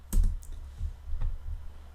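Computer keyboard typing while HTML is edited, a few close, sharp key clicks in a short burst, one of them likely the Enter key, with no talking.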